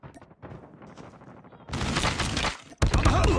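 Call of Duty Mobile gunfire: scattered shots at first, then a loud, dense burst of rapid automatic fire, a brief gap, and another heavy volley right up close.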